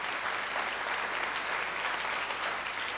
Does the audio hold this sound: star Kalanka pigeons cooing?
no